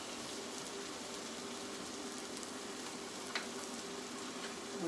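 Shrimp curry with tomatoes sizzling in a pan as it is stirred, a steady, close frying hiss with faint scrapes and no talking.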